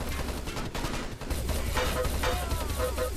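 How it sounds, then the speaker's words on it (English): Rapid gunfire from a multiplayer shooter video game, with dense overlapping bursts of shots and explosions forming a continuous loud barrage. "Wow, headshots by Sublime."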